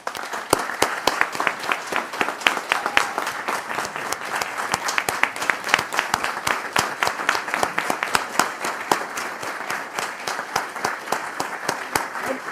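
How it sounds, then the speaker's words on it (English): A county commission meeting audience gives first responders a long round of applause, steady crisp claps filling the room from start to finish with no voices over them. "Let's give them a round of applause"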